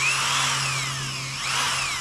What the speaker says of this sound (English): I'll need a 3/16 drill bit for this portion of the tang